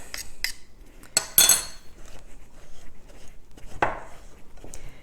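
Metal tines of a pastry blender scrape and clink against a bowl, cutting fat into flour in quick irregular strokes, with brief gritty cutting sounds between quieter pauses.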